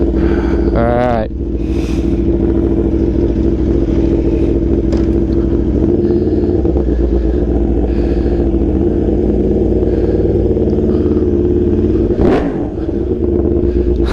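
A 2022 Aprilia Tuono V4 motorcycle engine runs with a steady, loud, close rumble throughout, a brief rising rev near the start and another surge toward the end.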